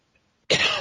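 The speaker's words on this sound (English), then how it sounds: "I got a cough." A single harsh cough bursts in after a near-silent start, close and loud, with no talk around it.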